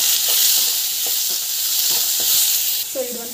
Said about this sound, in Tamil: மிளகாய் மூணுக்கு வந்து போட்டு வதக்கலாம்